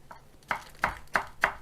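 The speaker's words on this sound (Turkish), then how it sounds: "Yeşil ve kırmızı biberimiz var. Onları da şöyle iç içe alacağız" Green and red peppers are sliced into thin julienne strips on a cutting board, five crisp knife chops in an even rhythm, close and clear with no talk.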